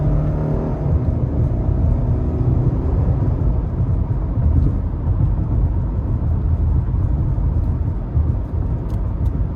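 Cabin of a 2018 Subaru Impreza on bumpy Newton Road in Bowling Green, a loud, continuous low road rumble and engine drone with uneven jolts and no talking.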